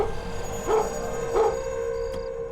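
A dog gives two short, evenly spaced barks at middle distance over a steady electronic hum, with a faint click near the end.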